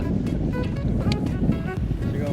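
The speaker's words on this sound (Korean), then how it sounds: "파도도 많이 심하고 바람도 많이 불어가지고" Strong wind buffets the microphone while rough waves slosh around a fishing boat on the sea off Gyeokpo's Sikdo island, a steady loud roar with gusty bursts.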